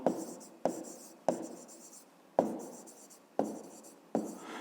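Digits written by hand for a fifth-grade maths exercise, heard as close, quiet pen strokes on paper, each starting with a tap and scratching briefly before the next number.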